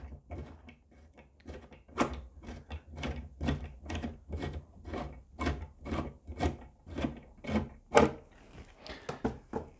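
A riv nut being screwed into place while fitting chequer plate on a Land Rover Defender: a long, regular series of mechanical clicks and ratcheting turns, fairly close, with no talking.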